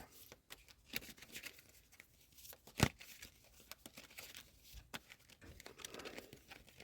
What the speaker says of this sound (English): I'm going to ruin these cards by shuffling them with my eyes closed